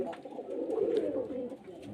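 A flock of pigeons at a pigeon seller's yard in Beldanga, Murshidabad, coos in a steady, overlapping murmur, close and fairly loud, with no break across the whole stretch.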